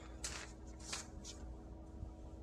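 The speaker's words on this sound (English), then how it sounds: "Hear me shuffling my papers." Crafting desk while making articulated monster hands: papers rustle and shuffle in a few brief, crisp bursts, close but fairly quiet, with faint room noise between them.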